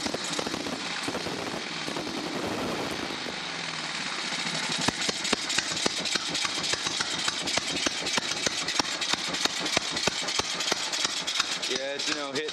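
A Moto Guzzi motorcycle engine fitted with Dell'Orto carburetors runs loud and close with a choppy, uneven firing rhythm and sharp pops. It starts out rough and mixed with noise, then settles into rapid, irregular beats.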